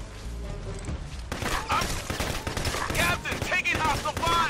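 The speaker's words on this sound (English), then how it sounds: "taking hostile fire!" Gunfire and machine-gun bursts from the video game Ghost Recon Advanced Warfighter 2, with a quieter stretch at first, then dense, steady volleys of rapid shots carrying on to the end.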